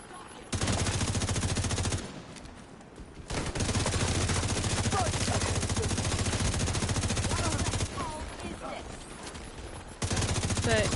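Sustained heavy automatic gunfire from a heavy gunner enemy in The Division 2, loud and continuous with a brief lull around two seconds and a quieter stretch near the end before bursting again.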